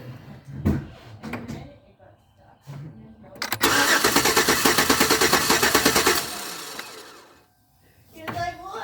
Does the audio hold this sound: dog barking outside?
no